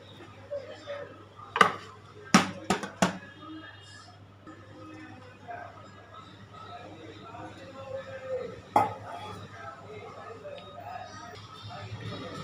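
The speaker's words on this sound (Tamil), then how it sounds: "இப்போ நம்ம இதை வேறு ஒரு பாத்திரத்தில் மாற்றிக்கலாம்." Steamed Kerala-style vattalappam made from idli batter is moved into another vessel. A quick cluster of sharp metal clanks comes early and a single clank follows later, all over a low background murmur.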